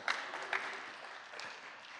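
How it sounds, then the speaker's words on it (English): Brief, fairly quiet applause from a small audience at a morning startup gathering, scattered claps with a couple of sharper hits near the start, tapering off. "Let's give them a round of applause for coming today"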